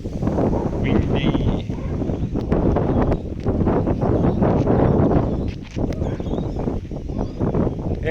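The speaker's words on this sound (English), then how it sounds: "Windy." Strong wind buffets the microphone on a street during a dog walk, a steady loud roaring rush that never lets up, with faint background sounds underneath.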